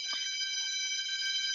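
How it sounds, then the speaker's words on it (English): A school bell rings in a steady, continuous electric tone, sustained and bright, with a faint bump of background noise at the start and no talking over it. "Just waiting for the bell"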